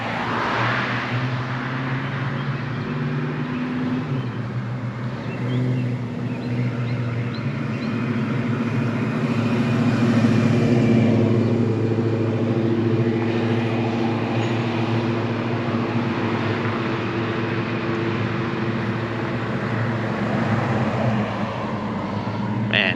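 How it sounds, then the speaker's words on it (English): Classic cars roll past on a beachfront road, a steady low engine rumble that swells as they pass and then eases off, heard continuously at moderate distance. "Here comes a couple more classic cars."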